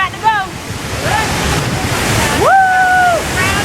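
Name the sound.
La Fortuna waterfall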